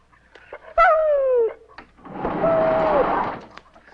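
A dog gives a sliding, high whimper and then a softer whine over a breathy rush, close by, with brief clicks around it.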